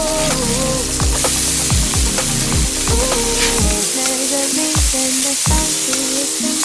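Smashburgers sizzle on a Blackstone griddle at a campsite, a loud, steady frying hiss that runs the whole time with tonal music playing over it.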